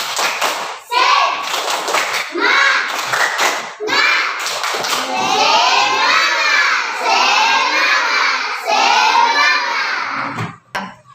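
Children in an Indonesian classroom perform the tepuk semangat chant, shouting rhythmic phrases in unison between bursts of clapping, loud and close, with a few sharp claps and thuds near the end.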